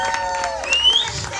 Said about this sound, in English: y'all clap a little bit louder for free